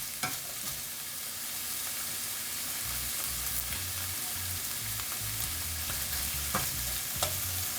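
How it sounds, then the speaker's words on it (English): Onions sweating in a pan, with the golden fond still on the bottom, for a beef stew: a continuous soft sizzle with occasional scrapes and taps of a spoon, heard up close and without speech. "I'll sweat these onions just for about 30 seconds or so."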